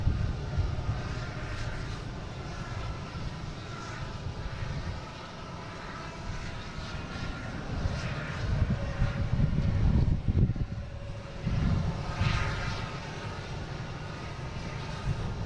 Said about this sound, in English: We have a Delta coming in from LaGuardia. Taking E175.